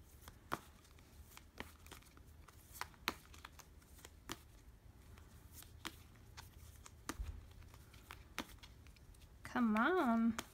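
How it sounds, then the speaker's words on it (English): Doreen Virtue Angels of Abundance oracle cards are shuffled and drawn from a deck, with sharp, irregular papery flicks and slaps close by, ending in a brief burst of a higher-pitched voice. "These are the Doreen Virtue Angels of Abundance cards"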